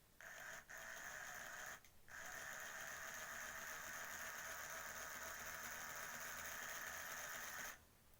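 The electric motor of a Tri-ang R56 Baltic Tank model locomotive in need of restoration runs with a steady, thin whirring hum, briefly cutting out twice near the start before humming on and stopping at the end.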